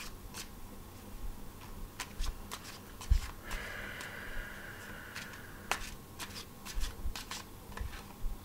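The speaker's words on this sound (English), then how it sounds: "That's it, couldn't shuffle any further." A deck of tarot cards being shuffled by hand, a series of soft riffling bursts and sharp card taps and snaps, close and fairly quiet, with no speech.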